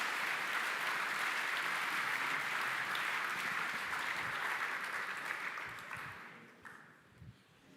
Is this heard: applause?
yes